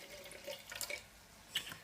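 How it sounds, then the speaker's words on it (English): Wine is poured into an emptied tomato tin over a sink while cooking pasta sauce, a faint, close trickle and splash of liquid with small drips, soft and uneven and alone. "So pour a bit of the wine in there."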